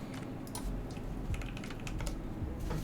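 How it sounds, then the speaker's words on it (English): Fast, steady typing on an acrylic-cased Tofu65 mechanical keyboard, a dense run of crisp, close keystrokes with no voices. "Who wants to hear a typing test of this thing?"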